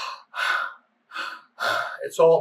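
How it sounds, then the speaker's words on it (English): A man gives a demonstration of heavy breathing like a fighter gasping for air during a fight: four sharp, loud breaths in quick succession, close to the microphone, ending in a rougher gasp. "you saw me during fights breathing like this"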